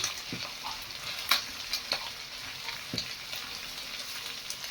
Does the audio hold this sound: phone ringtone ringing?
no